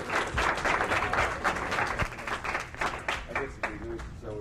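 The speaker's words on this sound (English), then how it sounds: "Let's have a round of applause for the representative of the Ronald McDonald House." Audience applause during a 1982 Tom Petty and the Heartbreakers interview, a steady crowd clapping that holds for several seconds, with scattered voices mixed in.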